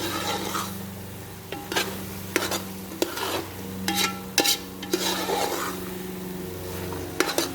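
Grated carrot for halwa is roasted in a pan, with continuous scraping and stirring strokes over a soft sizzle and low hum, close and steady throughout.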